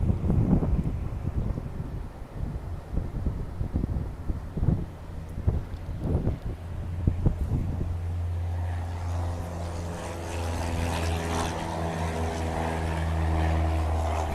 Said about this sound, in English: See that plane taking off?